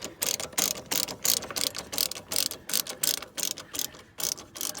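A ratchet wrench cranks a clamp tight on a 2007 Freightliner Columbia turbo manifold job, giving close, loud bursts of rapid clicking in uneven strokes with short pauses between.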